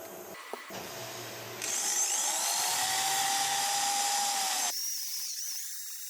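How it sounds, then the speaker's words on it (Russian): A high-pitched power drill with grinding bits and oil works a Kia Sportage 2.0 cylinder head, whining steadily with a grinding, rubbing edge, rising in pitch midway, then cutting off to leave a faint hiss. "Стандартно использую для этого набор шарушек и дрель, не забывая о масле,"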